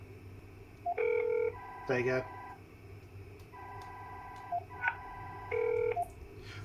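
Touch-tone DTMF dialing on a standard BT analog phone: two clear bursts of several quick, steady dual-pitched beeps, close and fairly loud, separated by short pauses, with a few brief spoken words in between.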